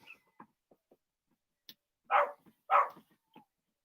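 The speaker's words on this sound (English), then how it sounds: "My dogs are now howling outside." Dogs outdoors giving short whimpering yelps and two louder drawn-out howl-like cries in quick succession, with scattered faint clicks and knocks nearby in an otherwise quiet setting.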